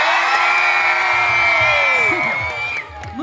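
A crowd of children at the Volna summer camp event yells and whoops its camp cheer together, a loud sustained shout with rising and falling cries that breaks off near the end.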